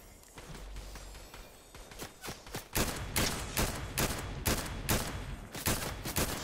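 Rapid bursts of gunfire in a Fortnite match, loud and close, firing in repeated volleys with short gaps between the shots over a steady background hum.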